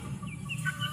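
Month-old baby chicks from an SBR cross with a Hatch Gray hen clucking and peeping together at close range, a steady low murmur of little calls with a few brighter chirps rising above it.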